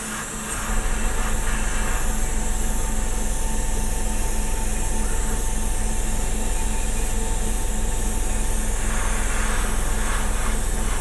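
Steady hiss of primer spraying onto a wooden Doctor Who TARDIS model, a loud continuous broadband rush that starts within the first second and holds unbroken throughout.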